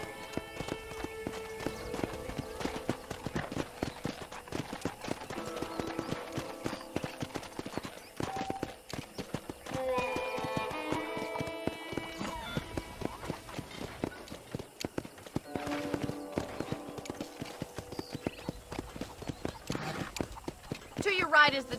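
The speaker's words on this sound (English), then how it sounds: "let's see if you can still ride a horse" Steady clip-clop of horse hooves trotting close by, with voices talking over them and music playing in the background, in the video game Red Dead Redemption.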